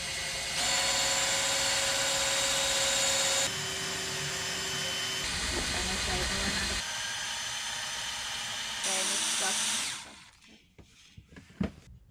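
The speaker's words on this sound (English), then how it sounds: "now we will use our drill pump" A steady electric drill whine runs continuously, shifting pitch in stages as a drill-powered pump labors pumping diesel aboard a boat, then cuts off into quiet clinks and handling noises.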